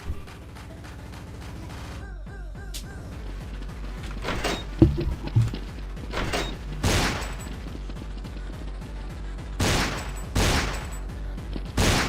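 Pistol gunfire in a Godot-built game, a run of sharp repeated shots in clusters, close and loud, over a layered mechanical ambience with whirring and sliding tones, no speech.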